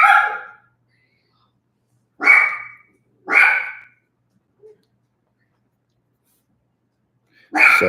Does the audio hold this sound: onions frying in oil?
no